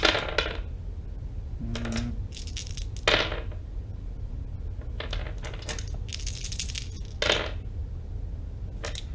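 Dice for a tabletop RPG are rolled several times, each roll a short sharp clatter and rattle on a hard surface, separated by quiet pauses.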